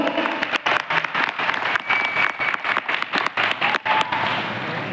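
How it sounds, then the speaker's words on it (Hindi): An audience at a training program in Lucknow claps loudly for the national flag, a close, energetic burst of many hands with a choppy, pulsing rhythm and brief dips, continuing for several seconds. "एक सैल्यूट और ताली हो जानी चाहिए अपने तिरंगे के लिए।"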